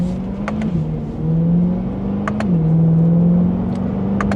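A Chevrolet Corvette C8 2LT engine pulls hard under acceleration, a loud steady drone rising in pitch, briefly dipping at gear shifts before climbing again, heard from inside the car.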